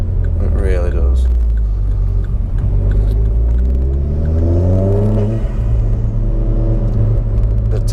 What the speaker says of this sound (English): The turbo's all maxed out now, so it's running out 20 psi.